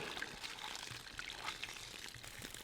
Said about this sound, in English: I'll do that by slowly swapping out the water with some new water there.